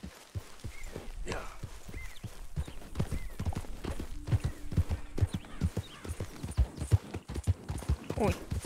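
Hooves of a horse clip-clop in steady rhythm in Red Dead Redemption 2, close and moderately loud, with faint neighing and a voice talking over them.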